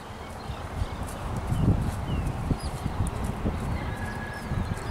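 Horse hooves thud and shuffle on the ground as a calm, large bay working horse is reined to a stop, with soft irregular steps and faint background bird sounds.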